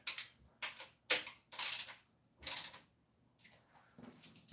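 Bolts tightened by hand during reassembly of an Oldsmobile 403 V8 engine, with a series of short metallic ratcheting and creaking bursts in irregular rhythm, close and moderately loud.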